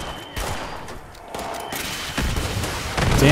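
A surface-to-air missile launcher firing during a Line in the Sand event at the Allegheny Asylum in the game Fallout 76; loud, rapid booming bursts and crackling explosions layer over one another in a dense, continuous barrage.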